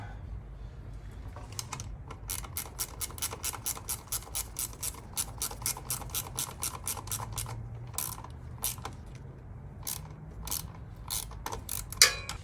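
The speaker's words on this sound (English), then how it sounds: "Got a brand new nut. We'll tighten this girl up." A ratchet wrench clicks rapidly in bursts while a brand-new nut is tightened onto a new All Balls high-performance starter on a Harley Road King motorcycle, close and crisp with brief pauses between runs.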